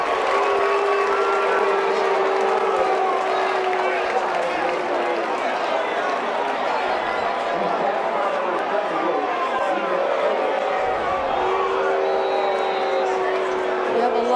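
A high school football crowd at a Massillon Tigers vs. Bedford Bearcats game gives off a sustained, dense roar of voices and booing that fills the stadium continuously without a break.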